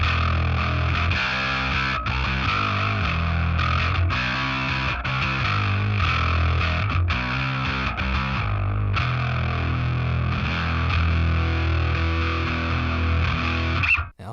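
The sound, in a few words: bass guitar through rat-style distortion pedal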